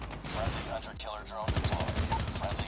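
Rapid automatic gunfire from a shooter game, COD Mobile, rattles in fast bursts, loudest in the second half, under continuous game sounds with voices mixed in.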